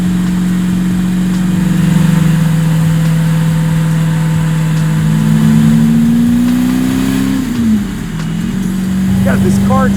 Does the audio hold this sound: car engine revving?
yes